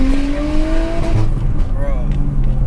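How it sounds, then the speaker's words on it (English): An Audi RS5 engine revs hard with a rising, strained exhaust note, loud and close, with a rumbling low end throughout. "Even the exhaust rev sounded sick."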